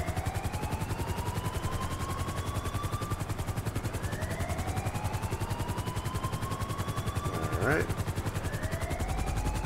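Marine One presidential helicopter landing in GTA 5, its rotor chopping in a fast steady rhythm with rising engine whines, while a person speaks briefly over it.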